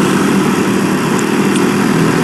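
Suzuki GSX-S 150 motorcycle engine on a ride near woods, a steady loud drone with constant low hum and wind rush, no voices.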